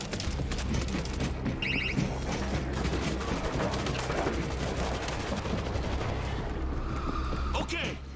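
An automatic sentry turret firing in the World War Z zombie shooter game, rapid continuous gunfire mixed with chaotic combat noise and shouting voices.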